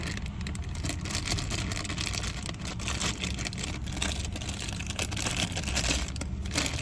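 A plastic bag around a small boxed Funko Mini Godzilla figure is opened close by, giving continuous crinkling and rustling with no pause.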